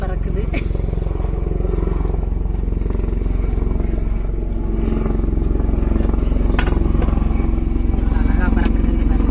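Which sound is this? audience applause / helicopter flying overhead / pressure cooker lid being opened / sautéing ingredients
helicopter flying overhead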